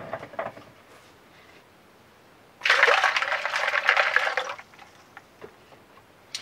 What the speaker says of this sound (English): all I was doing is adding in some more cold water